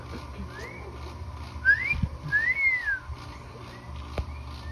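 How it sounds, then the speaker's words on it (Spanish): Clear rising and falling whistled notes, likely a bird, sound at a ranch in a few separate phrases, moderately near over low outdoor background noise. "Es un pájaro que está silbando."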